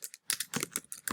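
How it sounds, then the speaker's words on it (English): Quick, quiet clicks and taps in irregular bursts come from someone typing code on a computer keyboard at an administrator command prompt, heard close and alone. "Now I'm gonna start typing my code in."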